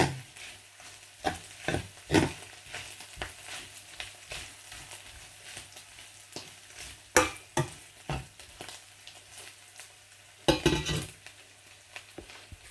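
Ground pork (giniling) frying in a pan with chayote to come, bursts of sizzling and repeated spatula scrapes and clinks in an irregular rhythm, close and moderately loud with no talk.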